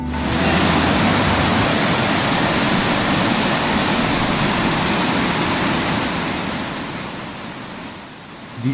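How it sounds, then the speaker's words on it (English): A small waterfall beside the road to Boburuella in Sri Lanka roars steadily and close, a dense broadband rush of falling water that holds constant before easing slightly near the end. "This is a small waterfall which we can see while traveling to see Boburuella."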